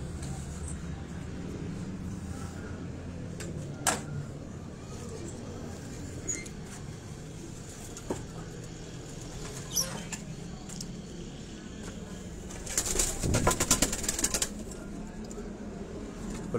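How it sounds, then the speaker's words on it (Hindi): Pigeons on a rooftop flap their wings in scattered bursts, a few sharp isolated flutters and then a louder cluster of rapid wingbeats, over a low background hum. "कबूतर फड़ मारता है"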